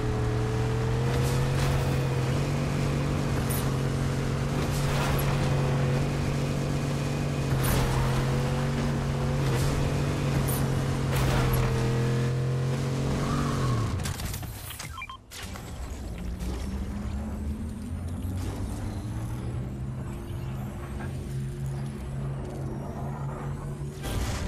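A car engine drones steadily in Fortnite as the vehicle pops wheelies, its pitch sagging and dropping out briefly midway before climbing again, loud and continuous with no talk.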